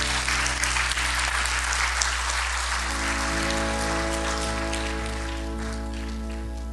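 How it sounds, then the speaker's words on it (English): Audience at a Christmas concert applauding loudly, a dense, sustained wash of clapping that carries on for several seconds and slowly thins, with a steady electronic hum underneath. "We can clap if you want to."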